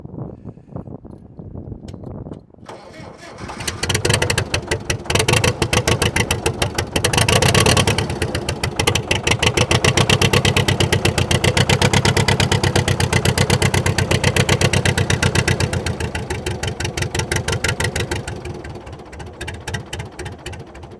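An International 2500A truck engine catches and runs steadily after starting, a loud, close, continuous rumble with a fast pulsing beat that rises in intensity and then eases slightly toward the end.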